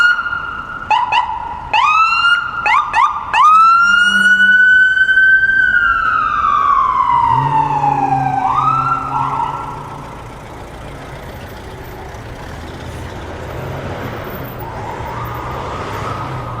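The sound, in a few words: ambulance siren passing on a downtown Toronto street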